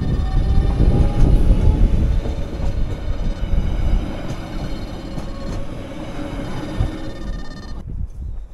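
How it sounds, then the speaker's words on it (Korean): A tourist train runs along an old railway line on a coastal walking trail in Busan, its loud rumbling and rattling passing close by and fading toward the end. "예전에 열차가 다니던 길을 관광열차로 변경해서 이렇게 다니는 거 보니까"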